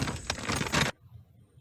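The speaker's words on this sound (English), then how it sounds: "As I was finishing filling the spreader and crumpling the bag" A crinkly paper-plastic rustle of an empty seed bag being crumpled after filling a spreader in a field, a dense close crackle lasting under a second before cutting to near silence.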